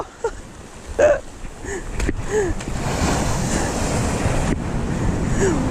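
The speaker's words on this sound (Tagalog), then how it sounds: "Lakas ng alon dito!" Strong ocean surf breaking at a rocky shore spot in Agno, Pangasinan, a steady loud wash with wind buffeting the microphone, and brief shouts early on.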